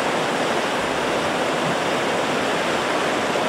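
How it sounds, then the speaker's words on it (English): Steady, full-bodied rush of the River Avon flowing at Balcorach, Scotland, continuous and close, with no other sounds. "River Avon at Balcorach"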